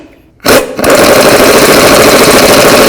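A power tool, likely an impact wrench, runs loud and steady for over two seconds as it bottoms out a lower control arm bolt on a 2008-2012 Chevy Malibu, with a brief burst before the continuous buzzing drive.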